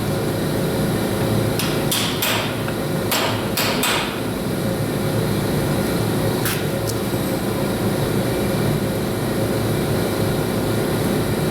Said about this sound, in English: I like to use a chisel and a hammer to take these dust caps off.